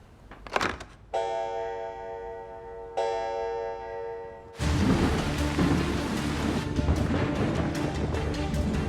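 A thunderstorm opens with a sharp crack of thunder, followed by two sustained tonal tones, then heavy rain pours in loudly and steadily through the rest.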